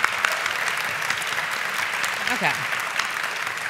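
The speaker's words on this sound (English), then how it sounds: "Let's give Hoover a round of applause" An audience at a book event applauds for a speaker, steady mid-level clapping throughout, with a brief spoken word from a voice partway through.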